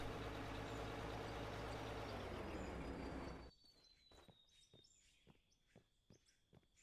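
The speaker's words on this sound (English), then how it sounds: "This fuel truck, it's quite sprightly" A fuel truck in the Out of Ore game rumbles loudly and steadily in a frozen northern setting, then the engine noise cuts off abruptly, leaving quiet crunching steps and faint bird chirps.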